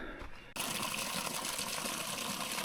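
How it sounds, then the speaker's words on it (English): Water at a trail water source on the Appalachian Trail flows and splashes steadily, loud and close, starting abruptly after a brief quieter moment and then continuing as an even rushing stream. "That's a water source."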